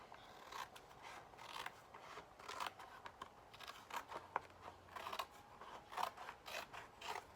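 Quiet, close scissors snipping through a cereal box junk journal cover, a series of short crisp cuts in an uneven rhythm with no talking.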